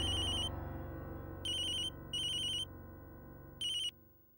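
A telephone rings in a Tamil TV serial household scene: three short bursts of bright electronic ringtone, evenly spaced, clear and close, over a low background hum.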